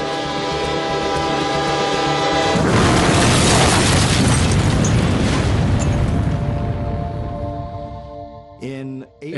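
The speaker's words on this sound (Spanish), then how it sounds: "se produjo una explosión de un tren en el norte de Corea del Norte" A train explodes in northern North Korea in April 2004: a steady rumbling, humming train gives way to a loud, sustained broadband blast that roars for several seconds before fading into pulsing tonal bursts.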